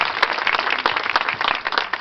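Crowd applause at a Catholic religious procession for Our Lady of Reconciliation in La Molina, a dense, steady wash of many hands clapping close by, continuous for about two seconds.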